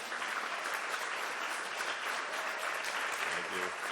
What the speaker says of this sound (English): Can we have a round of applause for Jeard?